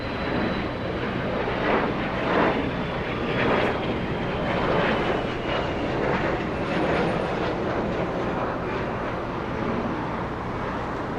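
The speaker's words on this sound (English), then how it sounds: "Cessna 700 citation on your screen." A Cessna Citation 700 business jet at LAX gives a steady, loud engine roar that holds for the whole stretch, with a faint whine running over it and no voices.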